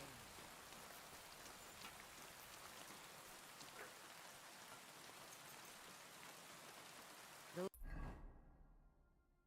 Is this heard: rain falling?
yes